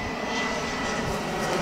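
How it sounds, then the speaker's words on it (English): A fixed-wing airplane passes overhead during an outdoor dog walk, a steady broadband engine roar that stays loud and continuous throughout, with no voices over it. "Another plane."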